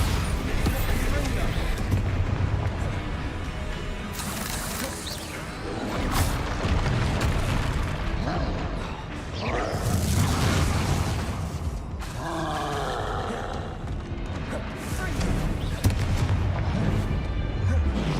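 Spell blasts from Bombarda and Confringo in the Hogwarts Legacy video game burst repeatedly as loud booming crashes amid continuous combat noise, with a player talking over much of the action.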